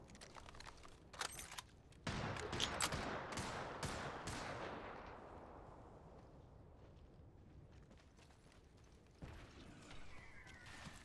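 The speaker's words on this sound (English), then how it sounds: "they're probably hearing the gunshots" Bursts of gunfire crack in a video game, a few sharp shots early, then a loud sustained volley that tails off, with more scattered shots near the end.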